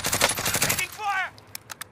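A short stretch of Call of Duty Modern Warfare gunfire: a rapid automatic burst, then a few sharp isolated shots trailing off, with a brief voice in between.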